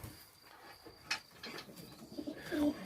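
Pigeons coo softly at evening feeding time, a few low murmuring calls over a quiet background, rising a little louder near the end.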